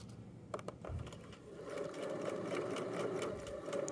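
A sewing machine stitches around the leg band of a pair of joggers, running in short bursts at first and then settling into a steady, continuous whir close by.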